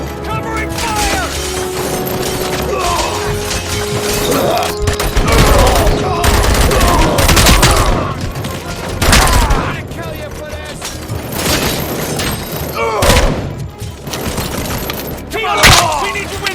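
Covering fire in the Robocop: Rogue City game: loud, dense bursts of gunfire and rapid shots crackle and thump in waves, with game voices shouting over the battle.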